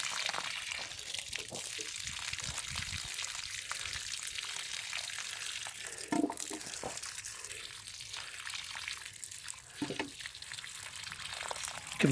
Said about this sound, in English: I'm just going to give things a quick water now, to water them in